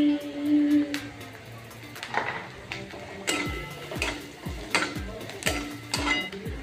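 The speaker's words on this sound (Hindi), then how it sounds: "अब हमने प्याज को अच्छी तरह से भून लिया है" Onions frying in a pan for a home-cooked dish, stirred with a utensil: a soft sizzle beneath repeated scraping and clanking of the spoon against the pan, close and uneven.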